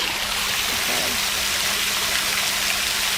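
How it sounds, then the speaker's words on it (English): Loud rushing water pours steadily in a broad, continuous roar like a stream or waterfall, with a voice faintly present beneath the noise. "the water, like the noise is pretty loud"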